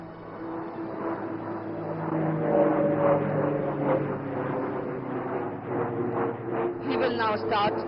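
A military aircraft flies a looping display at the Aero India air show at Yelahanka air force station, its engine a sustained roar swelling and easing, heard at a distance under continuous commentary.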